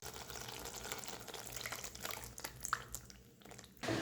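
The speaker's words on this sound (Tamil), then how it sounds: "நம்ம புளியும் ஊற்றி நல்லா மிக்ஸ் பண்ணிக்கலாம்" Thick soaked tamarind extract is poured into tomato thokku in a pan, a close, quiet liquid splash and trickle with light drips and bubbling, ending in a brief louder slosh.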